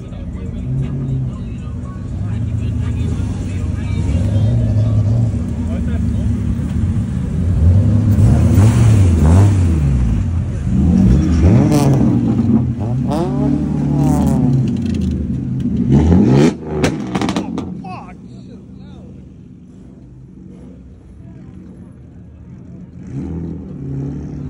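A BMW with a B58 engine races a Mustang GT, the engine note rising loudly as the car accelerates, then fading away toward the end, with voices talking over the run.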